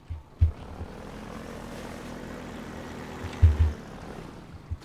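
Helicopter in Half-Life 2 Episode 2, a steady low rotor and engine drone running throughout, with a couple of louder low thumps near the start and past the midpoint.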